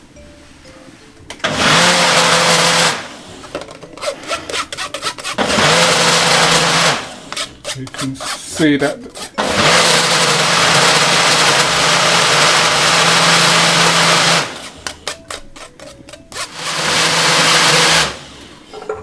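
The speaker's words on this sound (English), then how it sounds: "I'm going to put in another lot that can blend out while I'm straining this one." Blender whirring in loud, close bursts while blending Irish moss, several runs of a few seconds each separated by short pauses with clatter and brief speech.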